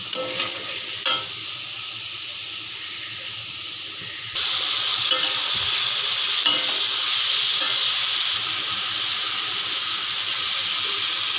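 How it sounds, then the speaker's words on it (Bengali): Onion paste and spices fry in a pan with a steady broadband sizzle that grows louder midway, a few stirring clatters near the start, no voices. "ভাজা হয়েছে আমি এখন মশলাগুলো দিয়ে দেবো"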